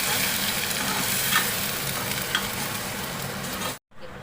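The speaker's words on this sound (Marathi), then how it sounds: "आपण वाटण केलेला तो वाटण टाकूया चांगलं परतून घ्यायचं" Ground masala paste spits and sizzles in a hot pan for a river-fish curry, with steady close crackling and scraping stirs that stop abruptly just before the end.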